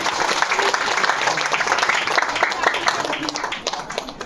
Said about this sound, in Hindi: जोर से ताली करें परमेश्वर को